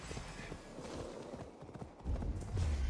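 Horse hooves clip-clop steadily in Assassin's Creed Valhalla, a brisk rhythmic gallop under game ambience that grows louder and heavier toward the end.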